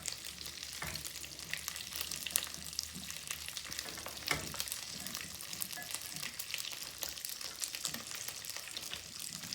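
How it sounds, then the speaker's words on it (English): French green beans frying in butter in a pan, a steady close sizzle with crackling pops and occasional stirring clatter, alone without voices. "our French green beans into the pan with our butter."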